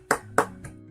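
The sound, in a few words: applause for officer Turner, from a video game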